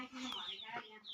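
A rooster gives a few short clucking calls up close, brief rising and falling notes over about a second, with a voice nearby.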